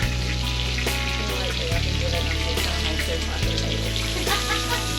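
Bacon sizzles steadily on a Skottle griddle outdoors, a dense continuous crackle and spatter up close with brief scraping or pushing sounds, no talk over it.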